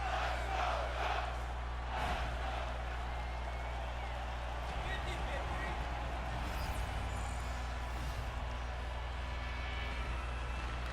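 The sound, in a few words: arena crowd cheering in NHL 23 hockey video game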